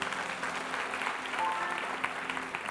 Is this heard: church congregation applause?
yes